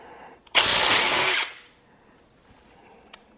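A DeWalt Atomic 20V cordless impact wrench fires a single loud, close burst of about one second while removing a hog ring socket, with a faint click before and after.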